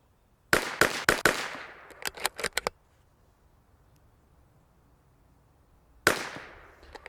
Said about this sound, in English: I'm going to start by shooting the bottom right-hand corner of the last one